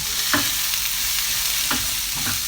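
A lean turkey stir fry sizzles steadily in a hot pan, a constant close hiss broken by a few brief scraping stirs, with no voices.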